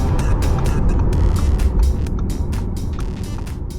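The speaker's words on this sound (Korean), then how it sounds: "파워가 일단 476마력이에요. 와, 기어 변속 되는 거 봐." Audi e-tron GT electric car, 476 horsepower, accelerating from inside the cabin with a loud low rumble and road roar, a rhythmic pattern of repeated bursts above, easing slightly toward the end.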